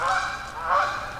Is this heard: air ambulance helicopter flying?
no